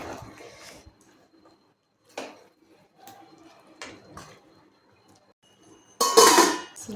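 A pot lid clatters down onto a pan of chicken curry just after the masala is stirred through, one short bright metallic clank near the end, preceded by faint, scattered kitchen clinks.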